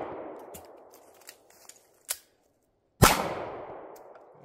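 A single sharp, loud gunshot cracks out at an Air Marshal qualification shooting test and rings briefly into a fading tail, preceded by a few faint clicks and a brief snap.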